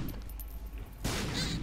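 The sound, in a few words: explosions in video game The Binding of Isaac Afterbirth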